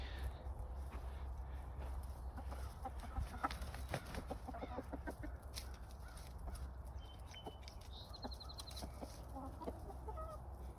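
Several meat chickens and roosters cluck and squawk close by over a steady low rumble, with scattered calls throughout and no talking.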